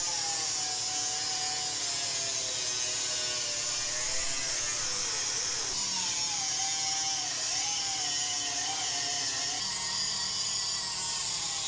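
A cutting tool whines steadily while slicing through the metal dash panel of a budget Chevy Nova along a tape line, the pitch wavering and shifting as it moves across the sheet.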